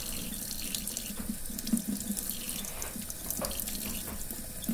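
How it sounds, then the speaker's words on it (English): Tap water running steadily into a sink while a skinned squirrel is rinsed under it, a close continuous splashing gush with small shifts as the meat moves through the stream. "So once again, I rinse to get some of that hair off."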